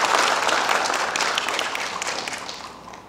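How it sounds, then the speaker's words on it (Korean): Applause from an audience greeting a Buddhist monk as he comes up to give a congratulatory address at the opening ceremony of a Gaya history academic conference, steady dense clapping from a hall that gradually thins and softens. "박수로 맞이해 주셨으면 합니다."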